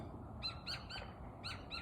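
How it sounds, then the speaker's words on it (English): Repeated bright bird calls in nature, several short chirps in uneven bursts, carried over a soft, steady background hiss, fairly quiet overall. "Nature, the birds."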